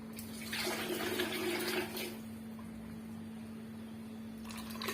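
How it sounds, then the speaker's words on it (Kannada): Hot water pours in a steady gush into two cups of rice for about a second and a half, then stops, leaving a faint low hum. "ಎರಡು ಕಪ್ ಅಕ್ಕಿಗೆ ನಾಲ್ಕು ಕಪ್ಪು ಬಿಸಿ ನೀರು ಹಾಕ್ತಾಯಿದ್ದೀನಿ"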